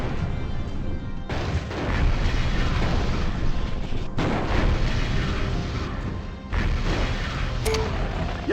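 Weapon fire and explosions from the mech combat game MechCommander rumble loudly and continuously, with heavy booming blasts layered over a dense roar and a few sharper impacts.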